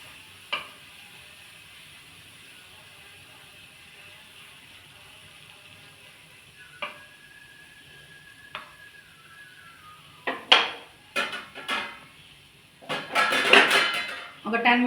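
Spoon scraping and stirring beetroot fry in a pan, with clinks of metal against the pan growing busier and louder toward the end over a quiet low sizzle.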